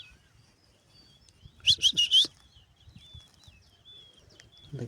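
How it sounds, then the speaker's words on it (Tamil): Baya weaver birds chirping around their hanging nests in a wooded area of Jaffna, a quick burst of bright, sharp calls in the middle with fainter scattered tweets before and after. "இதுக்குள்ளெல்லாம் குருவி இருக்குது இருக்கையில்."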